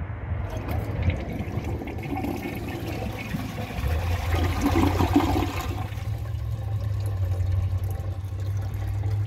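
A 2011 Kohler Rialto Ingenium toilet flushes with a steady rush of water that swells midway, then settles into a quieter refill hiss and trickle, close up with no talking.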